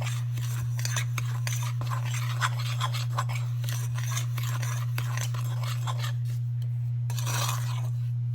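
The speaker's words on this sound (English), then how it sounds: "Then I'm going to stir it around and get it combined." A spoon scrapes and swirls through cake ingredients in a bowl, with repeated rubbing strokes over a steady low hum, close and fairly loud, easing off toward the end.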